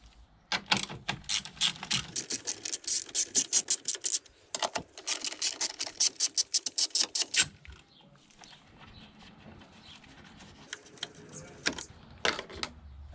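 Rapid ratchet clicking as a socket wrench backs out 10mm bolts on a BMW E60 M5 engine bay, in several bursts of fast ticking separated by short pauses, close and fairly loud, with lighter scattered clicks near the end.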